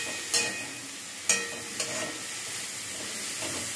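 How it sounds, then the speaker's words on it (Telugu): A spoon stirring a potato mixture in a cooking pan, three sharp scrapes against the metal over a soft, steady sizzle. "ఆలు, బాగా మిక్స్ చేసుకోవాలి."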